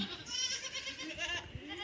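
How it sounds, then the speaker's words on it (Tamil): Goats and a young goat kid on a farm bleat in several overlapping, wavering cries, fairly close and moderately loud, with no talk between them. "நம்ம ஆட்டுக்குட்டியை வந்து ஊட்ட விடலாம்."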